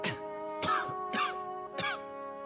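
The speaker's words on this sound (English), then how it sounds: "I heard people coughing in the back." Several people cough and clear their throats in a video game scene, four separate harsh bursts spaced about half a second apart, over a steady tonal music bed.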